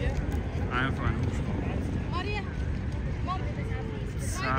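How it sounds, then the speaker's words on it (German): Helicopter coming in to land on the rooftop helipad of the Burj Al Arab in Dubai, a steady rotor and engine roar heard at some distance under crowd chatter and a voice. "der fucking Heli auf dem Burj Al Arab landen"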